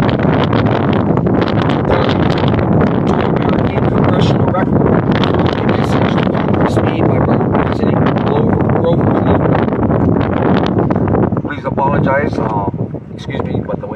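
Strong wind outdoors buffets the microphone with a loud, continuous roar and rumble. The roar eases slightly near the end.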